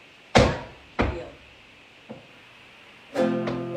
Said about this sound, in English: if we do a flat and a heel. So it's going to look and sound like this.